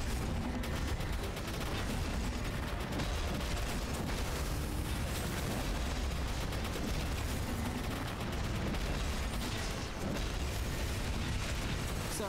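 Continuous heavy weapon fire from a particle accelerator in the game GMS Kronos, a dense, loud, unbroken wall of blasts and booms lasting throughout.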